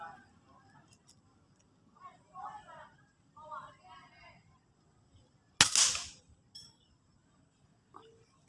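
A single sharp air rifle shot from a Crown MK2 on an outdoor range at a 30 meter target stands out as one loud crack with a short ring, following quiet talk and leaving faint background noise afterward.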